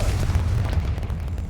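A Confringo blasting curse going off in Hogwarts Legacy: a loud, deep explosive boom with a rumbling, crackling burst that stays heavy for its short length.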